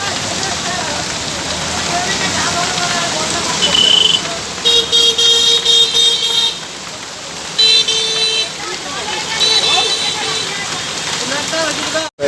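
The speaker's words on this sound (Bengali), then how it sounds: "গাড়িগুলো আর এপার দিয়ে আসছে না সব ওপার দিয়ে চলে যাচ্ছে" Traffic on a city road flooded after hours of heavy rain, with a steady roar of rain and splashing water throughout and several car horns tooting in short bursts through the middle.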